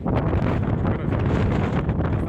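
Steady wind gusting across open Icelandic terrain, buffeting the microphone with a constant low roar and rushing noise that barely varies for the whole stretch, with no voices.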